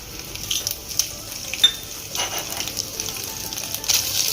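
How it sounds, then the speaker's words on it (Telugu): Mustard seeds, cumin and dried red chilies frying in hot oil in a home kitchen, giving a steady soft sizzle with small crackles and pops throughout and a few light pan clinks. "ఆయిల్ వేడెక్కిపోయింది. ఆవాలు, జీలకర్ర, ఎండుమిర్చి"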